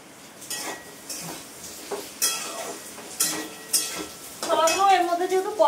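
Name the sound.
stirring and sautéing pumpkin curry in a pan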